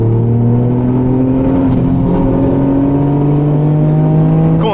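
A car drives fast on the Nürburgring, its engine holding a loud, steady droning whine heard from inside the cabin, with the pitch rising gradually and rising sharply at the very end.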